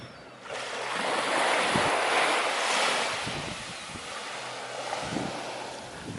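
Gentle sea waves on the Isle of Man shore, a broad steady wash of surf swelling and easing, with wind buffeting the microphone and no voices.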